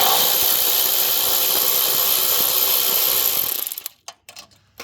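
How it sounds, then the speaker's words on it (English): A ratchet undoes an E8 Torx bolt on a 2016 BMW X1 F48 xDrive25i during a transfer case service, giving a steady close mechanical whirring rattle that stops abruptly and leaves a few short clicks. "my ratchet, and right there, that's the other E8 that we have to undo"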